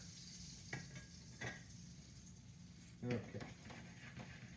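Salmon piccata sizzles steadily in a pan, with a few sharper crackles and a brief clatter of utensil or pan, and a voice briefly speaks over it.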